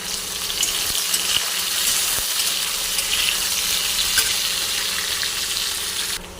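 Tomato fries with onion and capsicum in a pan, giving a loud, continuous close-up sizzle that holds steady throughout with a few faint clicks underneath.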